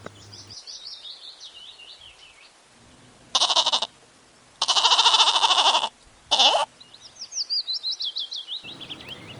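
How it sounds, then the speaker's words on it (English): A goat bleats in several loud, wavering bursts, with birds chirping faintly in the background before and after. "G for goat."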